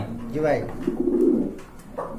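Pigeons at a pigeon market give low, rolling coos close by, mixed with people talking.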